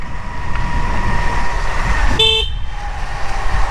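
One short car horn honk from a vehicle on a dark road through a forest at night, sounding over steady engine and road rumble.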